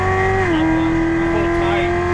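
A Corvette C7 on a race track accelerating out of a turn, its engine a loud, steady, close drone whose pitch dips briefly and then holds level as it pulls through the corner.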